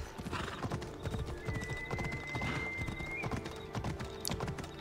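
Horse hooves clip-clop steadily in Assassin's Creed Odyssey while riding through Macedonia, a brisk rhythmic trot with a brief whinny, moderately loud over a soft game ambience.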